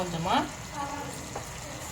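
Chicken biryani masala and yogurt sizzle in a pot while being stirred, a close, brief crackling fry with a scrape of the spoon.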